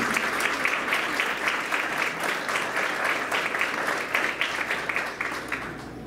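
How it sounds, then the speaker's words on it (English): Sustained applause fills a college leadership banquet hall, many diners clapping together in a dense, even wash of sound that holds for about six seconds before tapering slightly. "Big round of applause for all of us."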